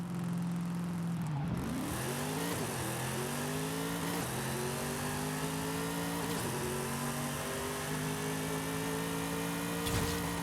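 A 2018 Chevrolet ZL1 with an 1100 hp drag tune in the Forza Horizon 5 racing game revs hard through a drag run. The engine roars loudly and steadily, climbing in pitch through each gear before dropping at repeated upshifts.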